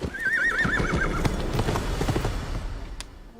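Hero horse Blackwind cantering on a film set, rapid hoof clip-clop under a loud, steady wash of sound, with a whinny rising early on.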